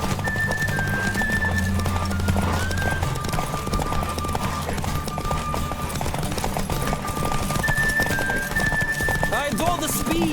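A horse gallops at speed in the video game The Witcher 3, with rhythmic hoofbeats and a whinny over a steady music and ambience bed, close and continuous.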